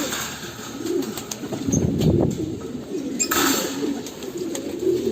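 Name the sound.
pigeons cooing in a loft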